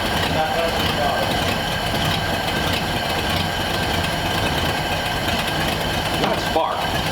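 The engine of a custom 1946 Ford convertible idles with a steady, close, loud rumble that runs unbroken from start to finish while people talk nearby.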